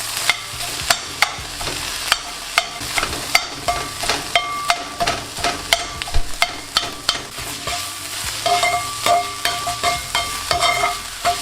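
Sliced peppers seasoned with salt sizzle steadily in a hot pan, broken by regular, sharp scraping strokes of a utensil stirring them, loud and close with no talking.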